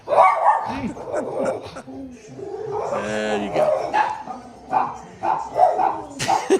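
A pet dog inside a house barks and yips in sharp bursts at dogs on the television, mixing in whimpers and whines as people talk over it.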